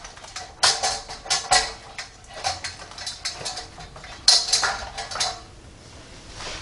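Metal pan and utensils clatter and scrape as beef short ribs are turned over in a NuWave oven pan, a series of close, sharp clinks and knocks in irregular bursts with no talking.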